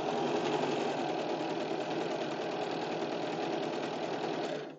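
A sewing machine hums in one continuous close run, stitching layered stretch velvet bodice pieces for a dress, steady and even until it stops at the end.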